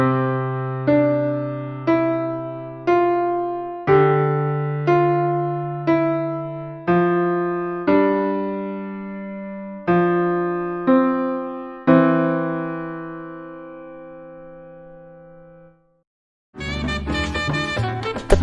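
Simple piano lesson piece with right and left hands playing together: a steady run of struck chords and paired notes, each decaying, the last chord ringing out long before a burst of louder, busier sound cuts in.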